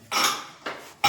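A pressure cooker lid is closed over sugar placed inside without water, heard as two or three short metallic clanks and scrapes, close and fairly loud, with no voices.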